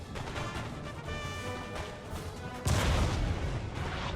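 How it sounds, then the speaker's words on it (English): Cannon fire in a Napoleon: Total War battle, a heavy boom hitting hard partway through and rolling on beneath dense, continuous battlefield rumble and clatter. "We'll get some shots off on the cannons here."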